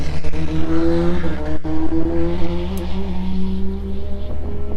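Formula BOSS race car engine at the Kirkistown circuit in wet conditions, a loud steady droning roar with shifting pitch, heard close and without talk.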